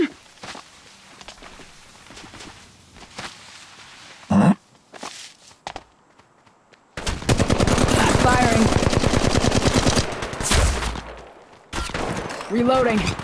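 Flatline assault rifle firing in Apex Legends Mobile, loud rapid automatic bursts, the heaviest stretch running for several seconds in the second half, mixed with footsteps and game sounds, with spoken voice callouts between the volleys.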